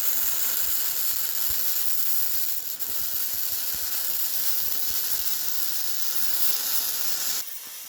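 A Titanium 140 MIG welder, set to 250 wire speed and 18 volts, tack welds a belt sander frame with a steady, close crackling hiss that runs unbroken for about seven seconds and then stops abruptly.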